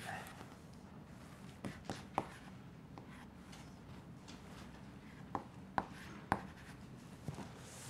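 Chalk or marker writing on a board during a mathematics lecture, with faint scratchy strokes and a few sharp taps against a quiet room.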